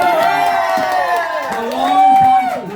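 A comedy club crowd at an outdoor stand-up night cheers, whoops and shouts as a comedian is welcomed to the stage, a loud, sustained roar with bright voices rising and falling throughout.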